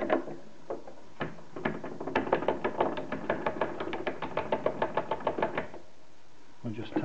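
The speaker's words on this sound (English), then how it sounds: "I'll just tap it in." A stove pipe is knocked into a filed notch at a 90-degree bend with a run of sharp, evenly paced metallic taps, close and fairly loud, beginning sparse, then rapid and regular before stopping, with a few more taps at the end.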